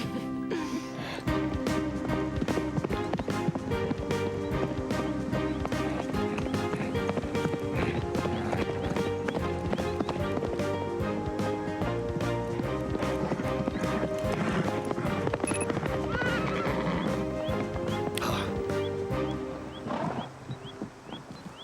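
Cartoon horse trotting with steady clip-clop hoofbeats and a neigh, set against continuous loud background music throughout.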